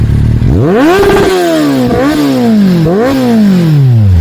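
A C900 motorcycle on a day trip in the Yercaud hills sweeps past up close, engine revving loudly with three rising and falling gear pulls that fade as it moves away.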